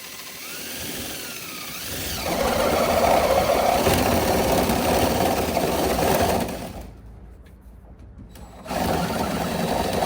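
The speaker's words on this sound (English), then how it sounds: "I'm drilling this hole, I don't know, maybe 7 inches up from the bottom." A power drill bores a hole into a plastic water storage container, a steady high whirring that surges after a couple of seconds, drops briefly near the end, then resumes, close and fairly loud.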